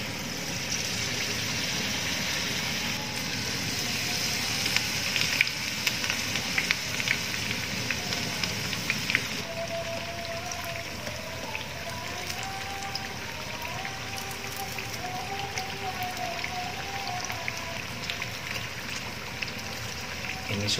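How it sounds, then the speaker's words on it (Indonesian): Young papaya and corn fritters fry in hot oil, a steady, dense sizzle and crackle that runs throughout at moderate loudness, with occasional spatters and no talking. "Sekarang akan saya goreng."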